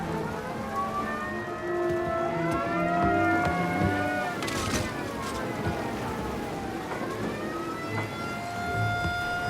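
Several police sirens wail and overlap in a 1930s-era gangster shootout in Mafia Definitive Edition, rising and falling continuously over car and street noise, moderately loud, with a brief voice.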